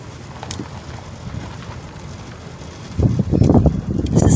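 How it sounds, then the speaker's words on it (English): Outdoor wind gusting across Oakland Cemetery in Dallas, Texas, a rumbling low rush buffeting the microphone, building into stronger, louder bursts in the second half. "It's a little windy today, so I hope you guys can hear me pretty good."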